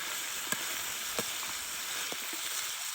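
Onion flowers and pork stir-fry in a large picnic wok over a wood fire outdoors, giving a steady close sizzle with a few faint scraping stir clicks.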